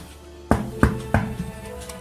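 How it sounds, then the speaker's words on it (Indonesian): Three firm knocks land on a bedroom door at an even, unhurried pace, close and clear against a quiet room, followed by a faint softer tap. "Ketukan pintu terdengar di kamar Yaya."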